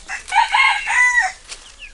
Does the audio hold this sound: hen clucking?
yes